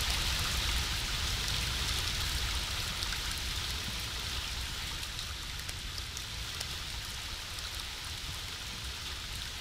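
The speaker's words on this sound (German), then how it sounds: "Verdammt, bin ich unter einem Wasserfall oder was?" A steady, dense rush of a video game waterfall fills the whole stretch, loud and continuous with a hissing, spattering texture and no break.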